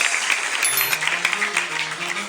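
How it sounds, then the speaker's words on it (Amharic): A church congregation claps together in a dense, sustained burst of applause, with a voice speaking over it. "አጨብጭቡ ስለ ጌታችን።"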